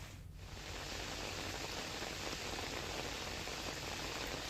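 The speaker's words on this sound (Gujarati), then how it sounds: "ડુંગર ઉપર મુશળધાર વરસાદ વરસ્યો" Heavy monsoon downpour falling on a hilltop at Pavagadh, a dense, steady hiss of rain that sets in after a brief quieter moment and holds evenly, fairly soft and at a distance.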